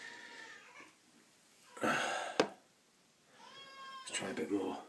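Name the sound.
cat meowing in the background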